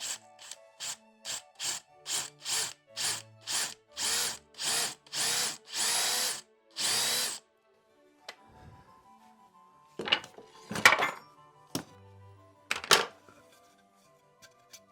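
A power drill bores a row of holes in wood for a Korean board game, about ten even close bursts of whirring in quick succession, then scattered knocks and rustling.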